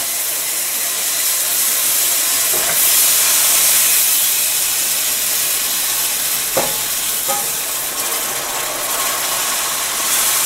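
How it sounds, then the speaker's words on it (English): Bone broth poured a little at a time into a pan of hot roux sends up a continuous hiss of sizzling and steam, with a few faint clinks from the pan or utensil and no voices. "And from there, I'm going to add my bone broth,"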